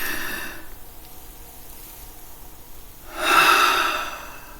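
A slow, deep, conscious breath, quiet airy exhale fading out, a pause of near silence, then a louder, rushing inhale through the nose, close and alone.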